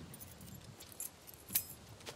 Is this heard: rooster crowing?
no